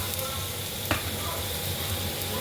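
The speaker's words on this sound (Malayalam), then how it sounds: "അതിനുശേഷം അതിനകത്തേക്ക് നമുക്ക് അരിഞ്ഞ് വെച്ചിരിക്കുന്ന ഇഞ്ചി ഇടുക, വെളുത്തുള്ളി ഇടുക." Chopped ginger and garlic sizzle steadily in a pan while beef and koorkka are being cooked, with a brief clink near the middle and no talking.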